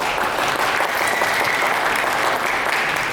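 High school students give a loud, sustained round of applause to welcome their counselor at a school gathering, a thick continuous patter of many hands filling the room with no speech.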